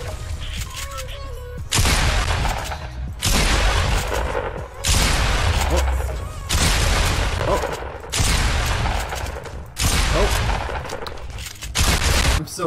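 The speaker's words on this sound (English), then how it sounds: "I got a kill with the shotgun." Shotgun fire in the Fortnite video game: a string of about seven loud, booming blasts, each roughly a second long, repeating at a steady pace of one every second and a half with no talk over them.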